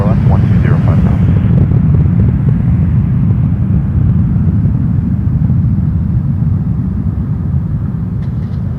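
Airliner taking off from runway 23 at Toronto Pearson Airport, a heavy continuous jet rumble holding strong then slowly easing, with a tower controller's radio talk over it.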